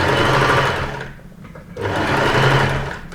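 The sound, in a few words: sewing machine stitching a Hawaiian style shirt seam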